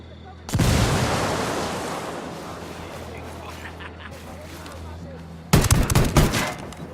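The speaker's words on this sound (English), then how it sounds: "Frag out" Frag grenade blast in the video game Ghost Recon Wildlands: a loud explosive burst that decays into rumbling debris, then a second sharp blast, with game voices talking underneath.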